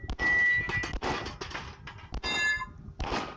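Pistol shots ring out in quick succession at close range during a Southern Colorado 2-Gun match, several sharp reports each followed by a metallic clang off nearby steel targets.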